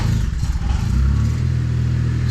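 A Ventrac radio-controlled utility machine's engine cranks with some clatter, then catches and settles into a steady, loud idle rumble, close by with no talking.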